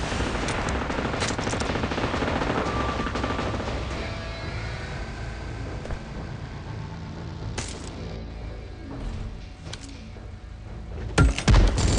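Machine-gun fire in PUBG Mobile: dense continuous gunfire bursts over a busy game soundscape, with a few sharper, louder shots near the end.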